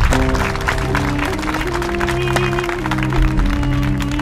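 A crowd at a public gathering applauds to welcome a guest, a steady wash of clapping blended with loud sustained music throughout.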